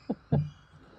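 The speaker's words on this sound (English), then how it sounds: "Interestingly enough, that crow, well, there's two of them actually." A crow caws twice on a rainy morning, two short harsh calls close by, the second louder and longer with a trailing rasp, then quiet.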